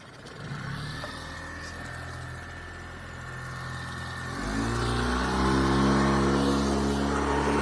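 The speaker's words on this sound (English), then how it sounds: "I'm going to hit this start button, bring it back, put it in gear." The outboard engine on a 2016 North River 22 Seahawk boat runs at a steady idle, then shifts into gear about halfway through, dropping to a deeper, louder, fuller drone that holds steady to the end.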